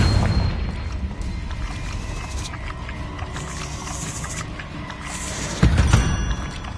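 A Confringo spell explosion in the Hogwarts Legacy video game booms loud and dense throughout, with a heavier blast erupting near the end.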